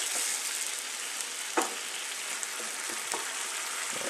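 Ginger and spices sizzle loudly in a hot pan for a chicken biryani, a steady close frying hiss broken by a few soft scrapes as the mixture is stirred.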